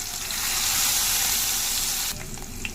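Cumin seeds, green chillies and garlic roasting in hot oil for a spinach stir-fry give off a steady, close sizzle that drops to a quieter crackle near the end.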